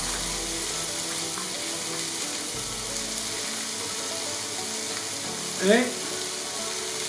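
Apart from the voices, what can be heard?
diced courgette and yellow pepper sautéing in a pan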